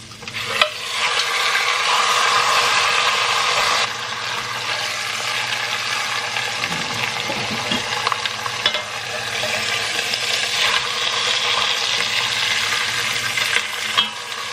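Steak frying in a pan of hot oil and melted butter, giving a loud, steady sizzle that runs continuously with slight swells and crackles throughout.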